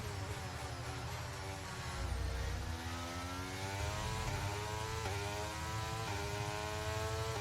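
A Williams F1 car engine climbing toward 6,500 RPM, a steady whining drone that rises in pitch through successive gears, continuous and fairly faint, with no voices.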